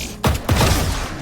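Gunshots in an aim-training shooter video game: two sharp, close shots in quick succession, each followed by a brief mechanical ring, loud and alone.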